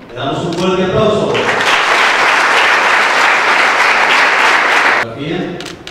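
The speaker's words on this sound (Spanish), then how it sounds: "Le damos un fuerte aplauso." A roomful of people applauding at a scholarship award ceremony, loud, dense clapping that swells in after a moment of speech and runs for several seconds before fading back under a voice.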